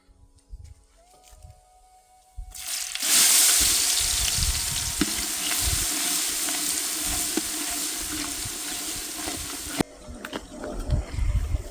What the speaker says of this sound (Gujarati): ડુંગળી મિત્રો આપણી કમ્પ્લીટ શેકાઈને મસ્ત થઈ ગઈ છે